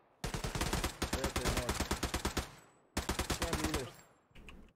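Machine gun fire in Hell Let Loose, a long loud rattling burst of rapid shots lasting over two seconds, a brief pause, then another sustained burst and a fainter final volley.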